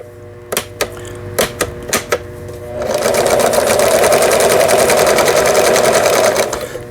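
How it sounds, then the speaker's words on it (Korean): A Pfaff sewing machine first clacks through a few sharp separate taps, then runs steadily for several seconds as it stitches a snowflake pattern, close and loud with a droning whir. "버튼을 눌렀을 때 눈꽃무늬 바느질"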